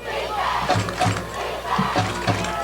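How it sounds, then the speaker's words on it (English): A high school football crowd at a Thornton Academy versus Windham game chants "defense" in a loud, rhythmic two-beat pattern that repeats several times, many voices together in the stands. "So the crowd coming alive here with a chant of defense"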